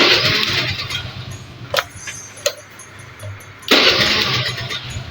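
A carburetor Honda Vario scooter is started by its electric starter: two short whirring cranks, then a quick catch and the engine bursting into a loud running drone, close by.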